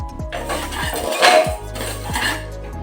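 Dal and daliya are dry-roasted in a hot pressure cooker while a metal spoon stirs them, giving a few clanking scrapes and knocks against the pot. It is close, in short bursts, and no voices are heard.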